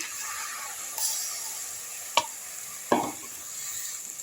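Sambar onion paste sautéing in hot oil for a tender-coconut chicken gravy, a steady faint sizzle with two sharp spoon scrapes against the pan, no talking.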